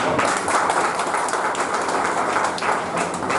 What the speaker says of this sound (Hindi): ये बहुत जोरदार तालियां होंगी